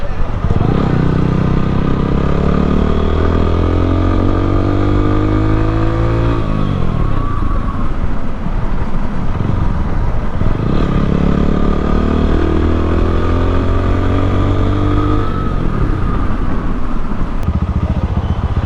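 A Lifan KPT 150 V2 ABS motorcycle is ridden, its engine revving up in repeated rising sweeps and dropping back between gear changes, with steady wind and road rumble and some talking underneath.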